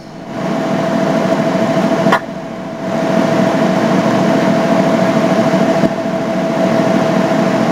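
Two ship diesel generators running in parallel in an engine room: a loud, steady mechanical drone with a constant hum, briefly dipping once before settling back to an even roar, with no talk.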